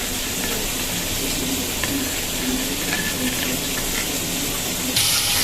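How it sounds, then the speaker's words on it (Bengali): Pangas fish pieces frying in oil in a wok, giving a continuous dense sizzle and crackle at close range, steady throughout with a brief louder hiss at the very end. "মাছগুলা ভেজে নিতেছি, কিছু ভাজা হয়ে গেছে আর কিছু ভাজা হচ্ছে"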